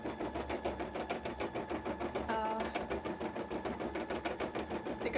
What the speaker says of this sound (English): It goes really well with the whir of the sewing machine as well.